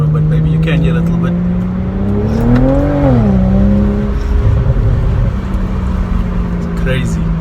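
A modified car engine revs, a steady droning idle that climbs in pitch, peaks, and settles back down, loud and close, with someone talking over it.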